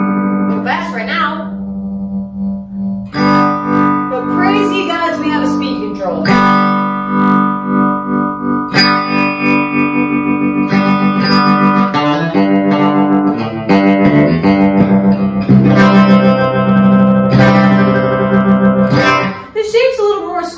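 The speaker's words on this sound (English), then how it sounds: "Next up, we have the tremolo." A Danelectro baritone guitar plays chords and notes through a tremolo effect pedal set fast, giving a loud, distorted, pulsing tone with ringing sustains and short pauses between phrases.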